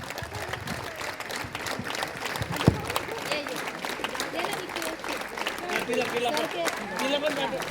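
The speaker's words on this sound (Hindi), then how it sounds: "तालियों में कुछ कमी नहीं होनी चाहिए।" An audience at a school foundation day and alumni felicitation ceremony applauds with dense, continuous clapping that builds slightly, while crowd voices and speech run over it.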